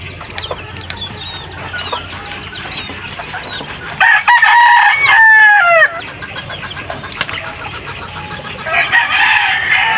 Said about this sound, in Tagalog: Nag-good morning yung manok.